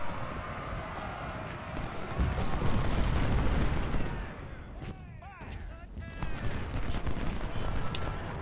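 Musket volleys from flanking infantry in Ultimate General: Civil War at the Second Battle of Bull Run, a dense rolling crackle of fire under continuous battle noise, with a voice speaking through parts of it.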